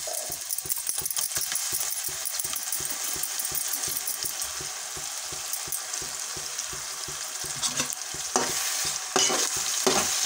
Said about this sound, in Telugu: దోరగా వచ్చేటట్టు వేపేసేయాలి